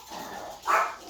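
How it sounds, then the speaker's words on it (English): Indoors, a dog named Cash gives a single short bark near the end, after a soft, low breathy sound. "If Cash hears anybody in the hallway, he decides to bark"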